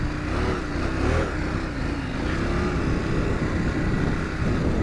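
A KTM 790 Adventure R motorcycle ridden off-road in Morocco, its engine a steady, close drone with a wavering pitch as the throttle rises and eases, running continuously without a break.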